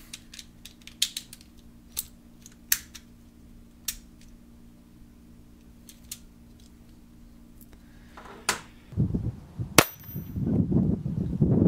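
A Junior Colt pocket pistol gives light metallic clicks as its magazine release is worked, followed by louder handling noise and one sharp clack close by.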